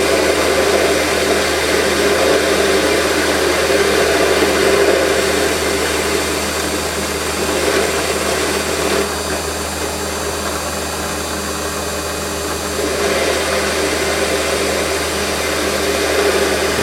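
A Warco WM180 lathe motor runs at 1100 RPM, a steady loud whine with a faint mechanical rattle, holding constant throughout with slight dips in level.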